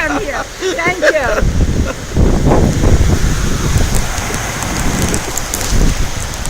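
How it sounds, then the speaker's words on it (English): Heavy rain pouring outdoors in Côte d'Ivoire, a dense steady wash of drops with gusts of wind noise buffeting close by, while voices talk briefly at the start and again near the end. "we're now going to have to end our discussion because the rain is coming so strong"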